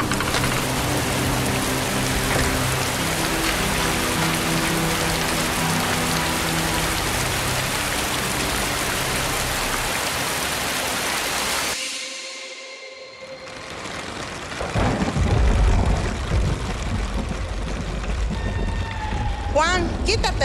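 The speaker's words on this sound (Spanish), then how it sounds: "No va a dejar de llover, Eva." Steady, dense rain pours as a sound effect in a radio drama, loud and continuous, briefly cutting out before resuming with faint voices and small movements beneath the downpour.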